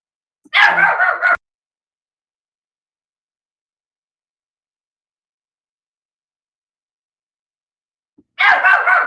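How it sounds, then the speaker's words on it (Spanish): Small dog barking in two short bursts of yappy, high barks, close and loud, separated by a long stretch of silence. "este perrito está haciendo ruido"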